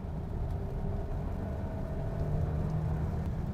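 A 2023 Hyundai Santa Fe hybrid drones steadily from its gearbox and transmission under acceleration, a low, continuous hum that stays even in level with no speech over it.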